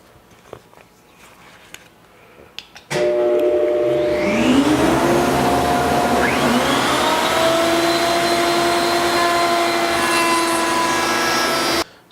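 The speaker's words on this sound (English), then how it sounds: "I'm going to go ahead and run a second pass in both of my top pieces and make this groove even deeper" A router table spins up with a rising whine and then holds a loud, steady high-pitched roar while cutting a deeper second-pass groove in wooden top pieces, stopping abruptly at the end after a quiet lead-in.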